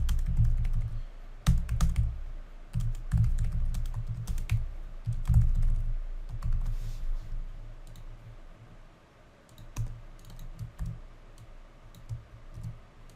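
Keys clatter steadily on a computer keyboard as code is typed, close and fairly loud, in quick irregular bursts that soften toward the end, with no talking.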